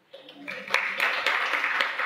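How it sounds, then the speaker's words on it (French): An audience applauds Monseigneur Guy Boulanger at a church gathering, a dense wash of clapping that swells quickly after a brief quiet start and holds steady and fairly loud to the end. "On va l'applaudir, Monseigneur Guy Boulanger"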